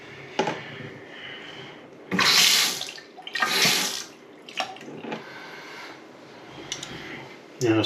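Water runs and splashes from a repaired faucet, with a couple of louder gushing bursts and softer trickling between them, close by, while a person talks briefly.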